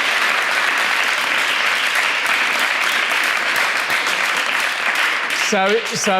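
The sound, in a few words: audience applause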